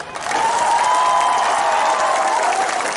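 Steady, loud audience applause fills a press conference hall for the Assam Jatiya Parishad, a dense wash of many hands clapping together for the full duration without a break.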